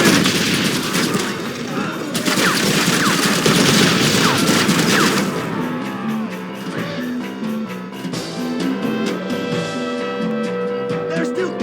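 Heavy rapid gunfire from the video game Red Dead Redemption, dense and loud for several seconds, then thinning into scattered shots and booms under game music and shouted voices.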